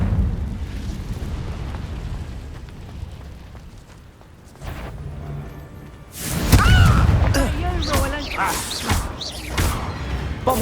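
Confringo fire spell blast in Hogwarts Legacy, a loud burst with a fiery whoosh, followed by a lingering roar and crackle, heard close alongside ongoing combat noise and shouted voices.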